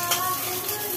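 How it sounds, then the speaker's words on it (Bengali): Potatoes frying in hot oil in a kadai give a steady, dense sizzle that stays close and even throughout, with no pauses. "তেলের মধ্যে আলুগুলোকে একটু ভাজা হোক"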